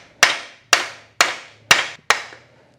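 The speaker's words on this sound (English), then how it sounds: "even though I'm using a soft face hammer" Five sharp, evenly spaced taps from a soft face hammer striking a nut threaded onto a diff locker shaft, each a crisp knock with a short decay, close and loud with no talk.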